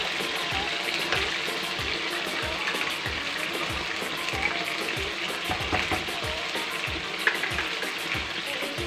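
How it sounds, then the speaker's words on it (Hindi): Potatoes fry in hot oil with a steady, dense sizzle and crackle, and regular soft stirring scrapes repeat under it, close and even throughout. "आलू फ्राई होने के लिए डाल देंगे।"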